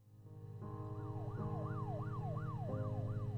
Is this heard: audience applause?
no